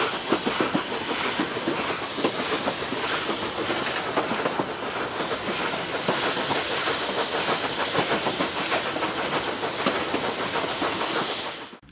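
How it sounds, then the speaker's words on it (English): A Cumbres & Toltec steam locomotive chugging steadily up a grade under load near Cumbres Pass, with hissing steam and rhythmic clatter of rolling cars, loud and continuous for the whole stretch. "The locomotive makes easy work of this."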